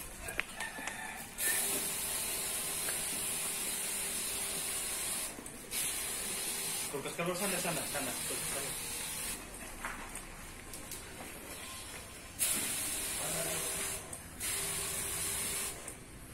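A disinfectant sprayer hisses in long, steady bursts while door handles are sprayed for COVID-19 prevention, with brief pauses between the sprays and a few quiet words spoken.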